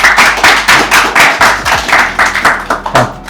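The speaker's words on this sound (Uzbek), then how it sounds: "shu bolaga bir qarsak chalinglar" A small group claps for a boy at a gathering, loud, close hand claps in a quick, slightly uneven rhythm that continues throughout.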